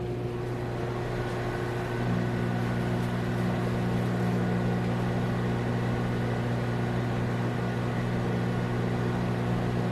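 A microwave oven runs with a steady, droning electrical hum and a constant low buzz, unbroken throughout, with no other sounds.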